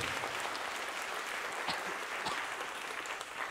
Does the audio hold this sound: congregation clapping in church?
yes